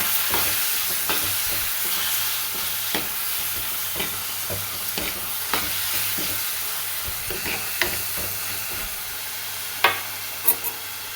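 Sliced tomatoes and green chilies frying with ginger and garlic in a pan, a steady close sizzle broken by scattered spoon scrapes and clicks as the mixture is stirred, with no voices.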